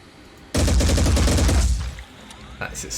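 A creature's tail gun firing in Phoenix Point, a loud sustained rapid burst lasting over a second, then a few scattered sharper cracks as it fades.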